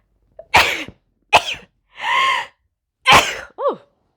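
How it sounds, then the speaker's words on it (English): A single person sneezes abruptly in an indoor setting, a sharp burst preceded by coughs and throat clearing, with a short gasp between and a brief vocal squeak after, all close and loud. "that sneeze came out of nowhere"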